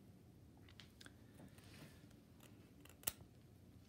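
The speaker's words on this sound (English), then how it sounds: "I'm just gonna trim this stuff, the excess interfacing that we don't need anymore, right? And trim the little threads a bit." Scissors trim excess interfacing and loose threads during a traditional beading project, giving quiet close snips over faint room noise. One sharp, louder snip stands out near the end.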